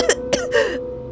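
Throaty, strained coughs from a voice actor in an audio drama, three close bursts in quick succession, loud and dry with a rasping edge.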